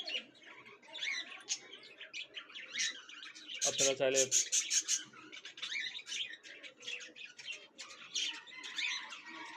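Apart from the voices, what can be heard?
caged birds chirping at a bird market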